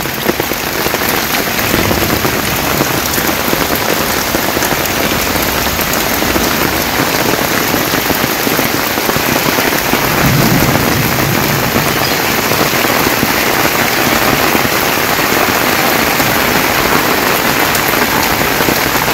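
Heavy rain pours down steadily in a village during a sudden afternoon storm, a dense, loud hiss and patter on surfaces that continues unbroken with no voices.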